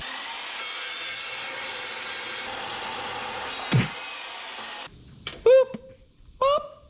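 A power saw cutting a steel piece for a 1963 Loadstar truck hitch build, a loud steady whine for several seconds that stops abruptly, followed by short honking, goose-like squawks.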